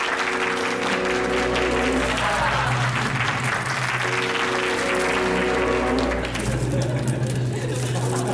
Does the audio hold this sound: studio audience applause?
yes